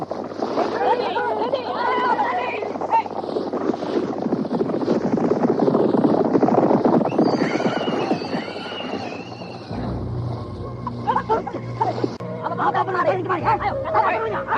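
Radio-drama effect of a troop of horses approaching, with a rumbling mass of hooves and clatter building and then fading, followed by shrill neighs and whinnies, while voices chatter and call out over it.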